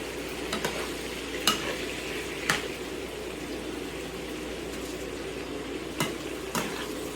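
Squash sautéing in a pan, a continuous soft sizzle with a few sharp clicks and scrapes of a utensil against the pan, close and steady.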